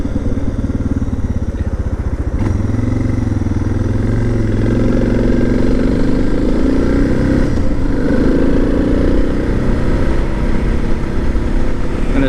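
A motorcycle cruises on paved road, its engine droning steadily and loudly up close with gentle shifts in pitch as speed changes and wind rush mixed in. No talking is heard.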